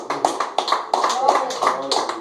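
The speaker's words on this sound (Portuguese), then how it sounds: "As palmas que louvam o nosso Deus" Rhythmic clapping from a congregation praising God during a Pentecostal church service, steady beats mixed with voices talking or singing over them.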